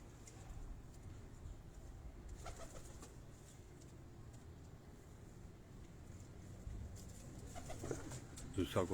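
Bale breed pigeons coo softly at a distance on a rooftop loft, low murmuring calls under steady background noise, with a few faint higher chirps and shuffling sounds near the end.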